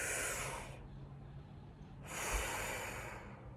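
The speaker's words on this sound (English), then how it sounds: "take a moment now and take a big breath" Two deep breaths, each a sharp audible inhale through the nose followed by a pause, close and quiet with no talking.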